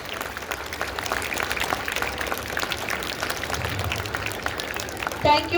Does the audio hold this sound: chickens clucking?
no